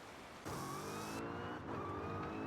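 A car in the racing game Forza Horizon 5 accelerates, its engine note rising steadily and loud with a brief dip midway as it shifts, running alone without voices.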